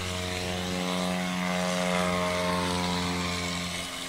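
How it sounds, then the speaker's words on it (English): A 2020 Carbon Cub on floats roars past steadily at a STOL competition, its engine and propeller making a loud, sustained drone with a strong tonal hum that swells slightly mid-pass and holds throughout. "how about a Carbon Cub, a 2020 Carbon Cub on floats here in competition today."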